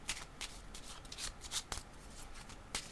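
Playing cards shuffled and drawn during a tarot-style card reading, a run of quick papery riffles and flicks with sharp snaps, close and fairly quiet, with no voices.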